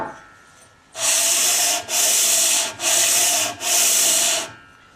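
A metal engine part is rubbed flat on an oversized sheet of abrasive clamped to a granite slab, giving four steady, even sanding strokes, each a harsh, close scratching rasp with short pauses between.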